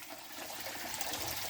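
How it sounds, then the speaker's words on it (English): Filtered pond water spills steadily from a spillway into a bucket filter, making a close, continuous broadband rush and splash with no pauses and no voices. "I created a spillway of filtered water"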